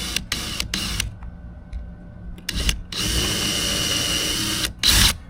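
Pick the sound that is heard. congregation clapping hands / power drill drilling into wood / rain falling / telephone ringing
power drill drilling into wood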